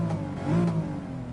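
A car engine revs in the GT Sport racing game, a brief mid-pitched rise and fall in engine tone heard alone at moderate loudness.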